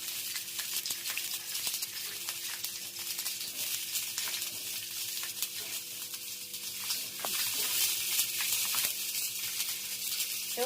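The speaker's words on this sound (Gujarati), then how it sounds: "સેવ મરચાં તળાય છે, જોઈ શકો છો." Chilies frying in oil for a homestyle Kathiawadi meal: a continuous, moderately loud sizzling hiss with faint crackles over a low steady hum, swelling slightly near the end, without speech.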